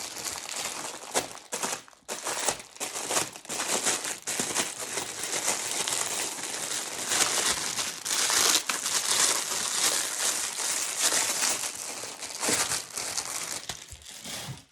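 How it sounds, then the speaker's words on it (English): A roll of purple deco mesh for a Mardi Gras wreath is unwrapped, with loud, close, continuous plastic crinkling and crushing that rises and falls in bursts for about fifteen seconds. "Get out my other roll of purple mesh."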